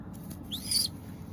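A young Madras pigeon lets out a single thin, high squeak that rises and falls, short and fairly close, over a quiet background with no one speaking.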